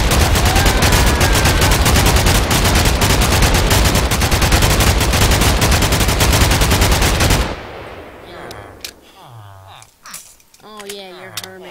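Guns from the Minecraft Flans mod fire a rapid automatic burst, a loud, relentless stream of evenly spaced shots lasting several seconds. The burst then stops abruptly, and a voice speaks over quieter game sounds.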